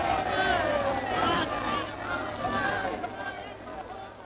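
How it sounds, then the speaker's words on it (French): A large crowd in a 1950 radio archive recording, a dense murmur of many voices and movement, steady and moderately loud, with a faint whistle-like tone drifting through the old, band-limited sound. "Le bruit que vous entendez en ce moment est celui de la foule."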